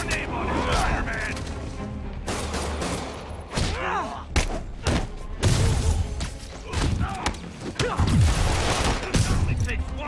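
Enemy gunfire in Marvel's Spider-Man comes as loud bursts of shots and heavy thuds, broken by pauses, with character voices shouting in between.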